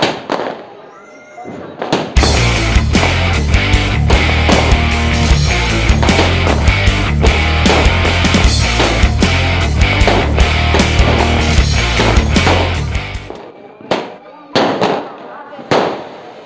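A long string of Diwali firecrackers bursts in a rapid, loud, continuous crackle of sharp bangs during a family celebration, running for about ten seconds before thinning into a few scattered pops.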